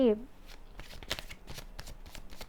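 Tarot cards are shuffled in quick, papery riffling and flicking bursts close to the microphone, while a person keeps talking over them.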